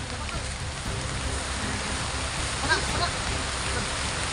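Heavy rain pours in a dense, steady hiss that fills the whole scene, loud and unbroken.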